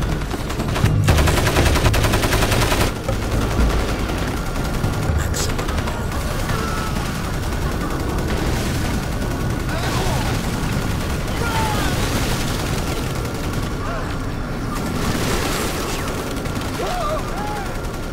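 Heavy gunfire in the shooter Crysis Warhead, sustained machine-gun bursts and shots in a continuous loud firefight, with a voice heard briefly amid the shooting.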